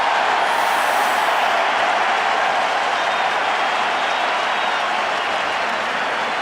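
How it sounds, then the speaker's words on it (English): A large stadium crowd at a college football game between USC and UCLA roars in a loud, continuous wash of cheering and applause that holds steady throughout with no clear breaks. "And the crowd showing its appreciation for this."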